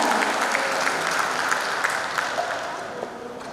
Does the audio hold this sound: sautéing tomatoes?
no